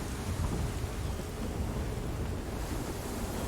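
A thunderstorm rages on a desolate, stormy shore in Remnant: From the Ashes, with steady heavy rain and rolling rumble blended with crashing surf in a constant, dense roar.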